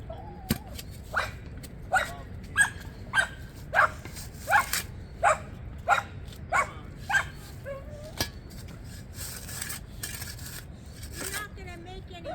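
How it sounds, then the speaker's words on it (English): A dog barks in a steady run of about a dozen evenly spaced, close, sharp barks in a yard during a storm drain clean-out, followed by a few softer whimpers and yelps. "You're not gonna make any cat friends barking like that."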